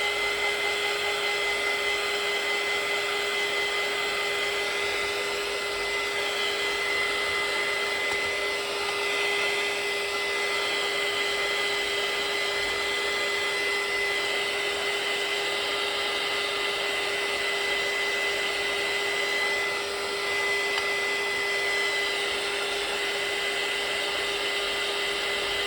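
A hair dryer blows steadily and close up, drying watercolour paint on a calico bag, a constant loud whir with a steady tonal hum that runs unbroken and alone.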